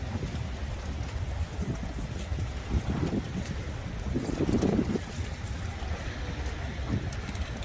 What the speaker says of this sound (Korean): 바람이 좀 심해서 진짜 막 날아갑니다